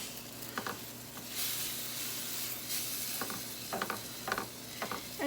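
Chicken coated in taco seasoning sizzling and simmering in a pan, a steady close frying hiss with a few scraping stirs and utensil clicks toward the end, no voices.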